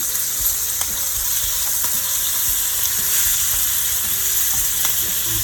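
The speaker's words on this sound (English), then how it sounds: "I always start with the skin side down since it's so hot right now, the oil." Southern smothered fried chicken pieces laid skin side down in hot oil over medium-high heat, a loud constant sizzle and crackle with scattered pops and light stirring sounds, no talking.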